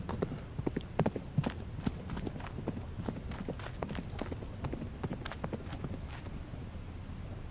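Rhythmic clip-clop of horse hooves in a video game at a steady walking pace, fairly close, continuing throughout with faint background noise.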